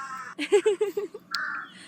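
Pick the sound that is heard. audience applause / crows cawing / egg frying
crows cawing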